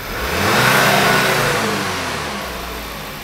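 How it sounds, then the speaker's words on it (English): A car engine revs up hard, rising to a loud peak within a second, then holds high and slowly eases back. "Maximum attainable RPM with a static vehicle."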